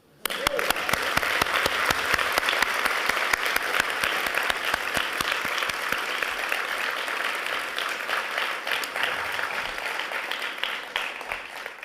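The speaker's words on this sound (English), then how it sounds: "Now you can applaud." An audience at an MBA class graduation ceremony breaks into sustained applause, dense clapping that starts abruptly and holds steady before gradually thinning out toward the end.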